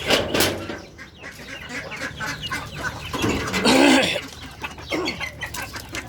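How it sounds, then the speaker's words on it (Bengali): Chickens and ducks are let out of their pen on a small farm during hot weather, with close, busy clucking and squawks coming in overlapping bursts. "আমি এখন হাঁস মুরগিগুলোকে ছাড়বো ওদের খাবার পানিটা দিয়ে দিয়েছি"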